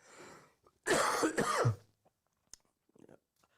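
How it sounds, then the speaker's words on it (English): A sudden loud burst of harsh coughing, close by, follows a few soft spoken words and trails off into quiet. "So if you hear anybody in the background coughing"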